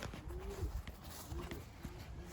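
Young tumbler pigeons give soft, low cooing calls, several short coos close by over a steady background murmur.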